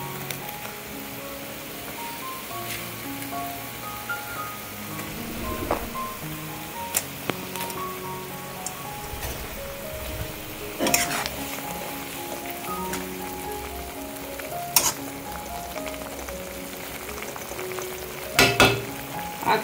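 A pan of sour small-fish curry broth boils steadily, giving off a soft, continuous bubbling hiss with a few sharp clinks and taps of utensils, heard close with no talking.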